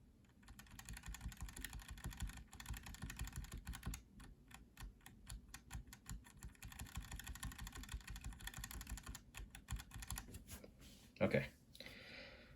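Stock JWK black Dry and Silk series switches on a keyboard are typed on in a steady stream of close clacking keystrokes, with rapid strings of presses and a louder knock near the end.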